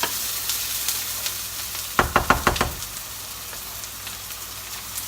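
Garlic and onions frying in a pan sizzle steadily at close range, with a short burst of several quick knocking stirs against the pan in the middle.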